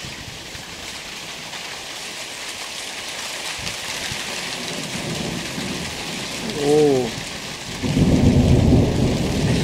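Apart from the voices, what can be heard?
thunderstorm with thunder and rain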